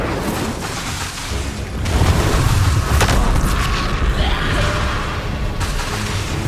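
Confringo and Incendio spell blasts in the video game Hogwarts Legacy, heavy booming explosions that swell louder around the middle, with crackling fiery bursts and rumbling debris throughout.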